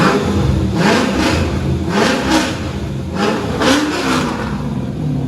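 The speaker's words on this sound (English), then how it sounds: "Give it gas for sound decibels." A Chevrolet Corvette's 5.7-litre LS1 V8 engine revs repeatedly, with several rising and falling bursts of throttle over a steady rumbling idle, loud and close.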